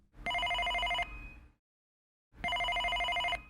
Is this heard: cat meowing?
no